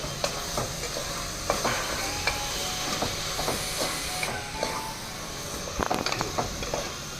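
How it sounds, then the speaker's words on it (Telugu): Vegetables frying in a pan for khichdi give a steady sizzle close by, broken by repeated scraping and clacking strokes of a spoon stirring them. "ఇదిగోండి ఈ విధంగా అన్ని చక్కగా వేగిపోయినాయి"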